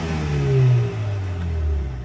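A Mercedes CLA35 with a Milltek exhaust, its valves shut in comfort mode, revs up and settles twice in quick succession, giving a muted, low engine drone close by.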